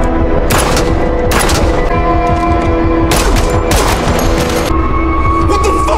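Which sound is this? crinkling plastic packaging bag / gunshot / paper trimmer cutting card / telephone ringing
gunshot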